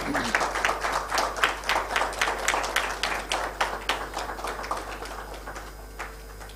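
An audience applauds a speaker at a stock-exchange listing ceremony for Biopol Chemicals Limited, with a burst of scattered hand claps that gradually thin out and fade toward the end.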